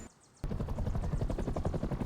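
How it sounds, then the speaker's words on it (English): A patrol helicopter in the survival game Rust cuts in abruptly after a brief quiet moment, its loud, steady rotor chop thudding rhythmically and filling the clip. "there is a freaking patrol helicopter"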